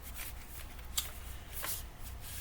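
Quiet riffling and sliding of a tarot card deck being shuffled by hand, with a couple of crisp snapping flicks as the cards riffle together, close and soft with no talking.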